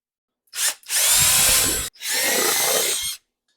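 A power drill bores a hole during an LS engine oil pre-lube job, whining loud and close in two sustained bursts with a brief pause between them.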